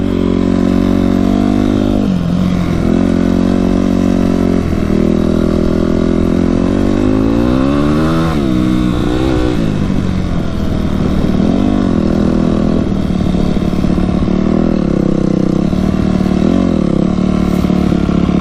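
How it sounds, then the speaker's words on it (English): A Yamaha YZ250F four-stroke dirt bike spins its back tire, its engine loud and close with a steady roar that rises and falls in pitch as the throttle is worked. "Just spinning out the back tire."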